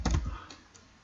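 Keys tapped on a computer keyboard while entering names into a Microsoft Excel table, a quick cluster of close clicks at the start followed by a couple of isolated taps.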